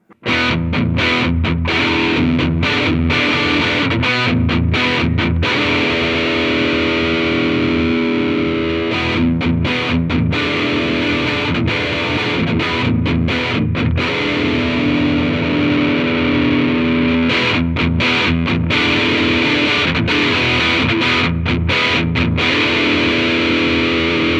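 Heavily distorted electric guitar plays continuously through a Laney Supertop head and cab, loud and dense, with chugging chords and brief palm-muted stops.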